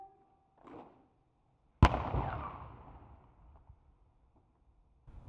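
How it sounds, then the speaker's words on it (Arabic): A single artillery gun round fired at a commemoration to announce a minute of silence, one sharp loud boom followed by a long fading rumble and echo, heard at a distance with faint ambience afterward. "وقد أطلقت المدفعية الآن طلقة واحدة لإعلان دقيقة صمت"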